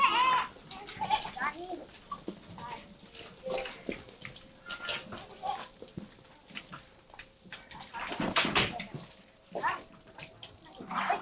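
Goats let loose on a farm on a rainy day bleat now and then, mixed with splashing water and a few voices in the background.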